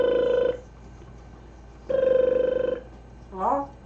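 A pet bird imitates a telephone ringing, giving two loud, close, buzzy ring bursts about a second apart, followed by a short chirpy whistle.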